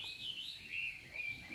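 A caged Chinese hwamei songbird sings a few faint, high, quick chirping phrases at some distance over quiet background noise.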